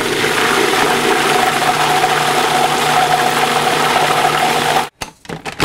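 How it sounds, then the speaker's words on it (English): A food processor whirs through peanut sauce for spicy udon noodles with a loud, steady motor drone for about five seconds, then cuts off abruptly, leaving faint clatter. "It's all done in the bowl of a food processor."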